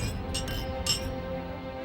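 Glasses clink together twice in a toast, bright ringing taps over a low background murmur.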